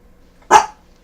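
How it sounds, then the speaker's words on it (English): A puppy gives a single sharp bark close by, loud and brief, set against near silence. "Oh, a little puppy dog, little dog."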